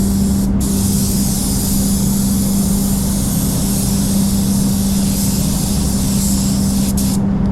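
An HVLP spray gun with a 1mm air cap lays a paint coat on a Peugeot 2008 during a spot repair, a loud continuous close hiss with a steady compressor hum beneath and brief pauses at the trigger.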